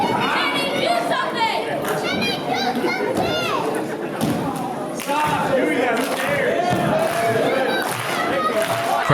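A wrestling crowd rallies behind a wrestler at a tag-team match, with loud continuous shouting, chanting and chatter from many voices, steady throughout with occasional swells.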